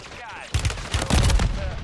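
Bursts of rapid gunfire in the video game Warzone 3, with a Holger 556 loadout, loud and close, breaking in sharply after a quiet start and repeating in clustered shots to the end.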